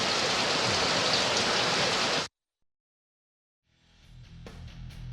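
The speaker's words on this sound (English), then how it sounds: "Looking at the rain." Steady, dense rain falling in a hiss that fills the first couple of seconds, then cuts to silence before fainter dripping and patter returns.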